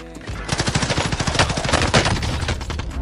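A rapid burst of automatic weapon fire in a console shooter game, with fast, evenly spaced loud shots following one another for about three seconds.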